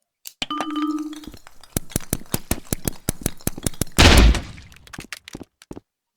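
Custom-built weapon firing in the VR game Rec Room: a rapid series of sharp, loud synthetic shots in steady rhythm, with a brief chime and a dense burst of noise partway through.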